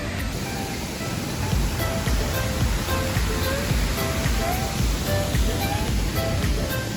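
Jujongan Falls near Iligan City roars as a steady, dense wash of falling water, loud and continuous throughout, with faint voices mixed in underneath.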